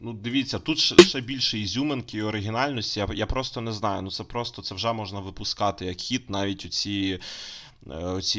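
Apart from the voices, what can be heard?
No distinct noise like a dog, phone or traffic.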